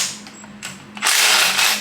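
Ratchet work on 12 mm manifold bolts of a K-series engine: a few soft clicks and knocks, then a sustained loud, close rasping burst of mechanical noise lasting almost a second, with no voices.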